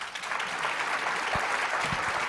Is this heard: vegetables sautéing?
no